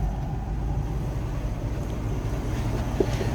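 A 1962 Chevrolet Impala SS's 327 V8 engine, with stock cam and exhaust, idles steadily nearby, a low, even rumble with no revving, heard alone without voices.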